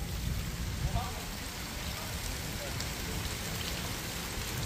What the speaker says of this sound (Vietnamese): Bây giờ mưa quá trời lớn luôn